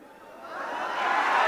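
A crowd at a political rally swells with applause and cheering, a broad rising wash of claps and voices that grows steadily louder over a second and a half with no speech over it.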